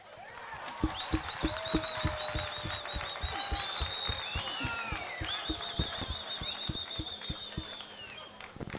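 A crowd at a statue commissioning ceremony for Mbuya Nehanda applauds after a poem recitation, with steady sharp clapping mixed with high whistles or ululation running throughout, moderately loud and sustained.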